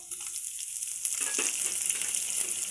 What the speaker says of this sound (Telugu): ఇప్పుడు నెయ్యి ఉల్లిగడ్డలు వేసుకోవాలి